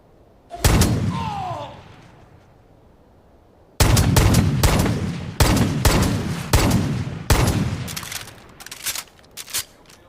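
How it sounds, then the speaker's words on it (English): A Desert Eagle pistol fires in the video game Division of Arms: a single loud, booming shot, a pause, then a run of heavy shots at an uneven pace, each with a sharp crack and a short echoing tail. "And here we have the Desert Eagle."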